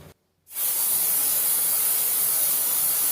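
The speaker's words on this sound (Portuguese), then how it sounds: "Ah, já esquecendo já de passar o spray. Dar uma agitada" A makeup setting spray mist released in one long, steady, loud hiss close by, starting after a brief silence and continuing unbroken with no talking.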